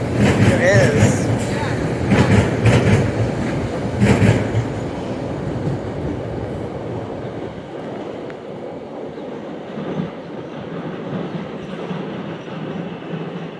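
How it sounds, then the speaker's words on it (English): An MBTA train pulling into Forest Hills Station, with a loud rumbling rush and rhythmic wheel clatter that fades to a steadier hum as it slows, with people talking over it. "Here we have a train going to South Station and the orange light train going too at the same time"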